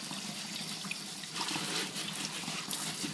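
Tap water runs steadily over aquarium plants and driftwood being rinsed in a laundry sink, a continuous splashing and trickling stream close by with small shifts as the items are moved under the flow.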